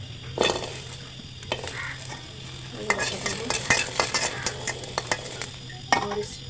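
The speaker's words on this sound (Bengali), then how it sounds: "এখন আমি আলু ভর্তার জন্য মরিচ ভেজে নেবো, পেঁয়াজ ভেজে নেবো।" Green chilies and then onions frying in a pan for potato mash, a steady close sizzle with scattered stirring scrapes and clinks of a utensil against the pan.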